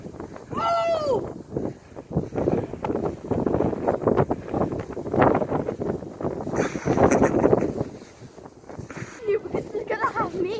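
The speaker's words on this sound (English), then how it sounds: "Can you hear that wind taking up though?" Strong wind roars and buffets outdoors in a heavy snow storm in Cardiff, surging in loud gusts and dropping briefly near the end, with voices and shouting mixed in throughout.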